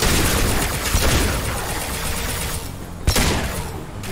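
Gunfire in the video game Mass Effect 2, a dense continuous barrage of shots with a sharper, louder crack near the end, heard alone without talk.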